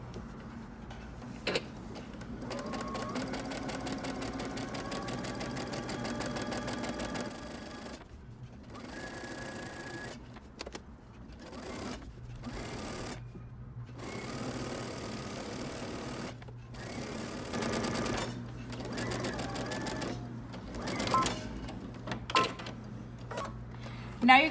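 A sewing machine stitches a fabric casing for pants in bursts of rapid mechanical whirring, stopping and starting between runs, with pauses of near silence.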